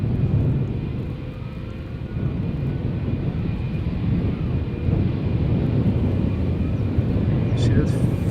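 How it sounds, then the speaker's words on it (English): A British Airways Airbus A319, 23 years old and first flown in 2001, roars steadily at close range at Schiphol's Polderbaan while bound for London Heathrow, with the low engine rumble holding loud throughout and wind buffeting the microphone. "BA A319 going to London Heathrow."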